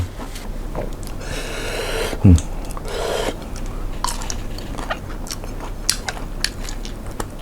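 Crunchy biting and chewing of a Thai spicy salad made with small soft-shell crab, the crunches close and irregular with one sharp loud bite near the middle, no talking.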